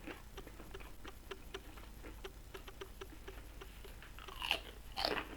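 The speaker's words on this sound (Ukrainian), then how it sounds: "Ммм, як хрумтять." Quiet, close crunching bites and chewing of fried sour-cream dough snacks, a quick irregular series of crisp cracks, with a couple of louder crunches near the end.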